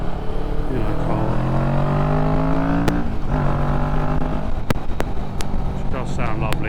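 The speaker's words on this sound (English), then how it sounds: "You get a good few pops out of nothing too obnoxious. That's with the Arrow exhaust on." Kawasaki Vulcan 650S motorcycle fitted with an Arrow exhaust, revving with rising and falling engine pitch and a few sharp exhaust pops near the end, fairly loud and close, with talking over it.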